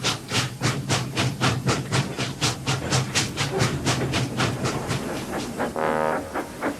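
Steam engine puffing out of a shed in a children's railway story, its rhythmic chuffs close and steady at a brisk pace, ending with a loud hiss of released steam.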